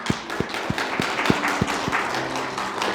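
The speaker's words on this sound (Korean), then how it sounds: "우리 기도로 또 박수로 맞이하도록 하겠습니다." A church congregation applauds a newly baptized member: several distinct, fairly loud hand claps in a loose, uneven rhythm. The claps thin out and fade after a couple of seconds against a soft room hum.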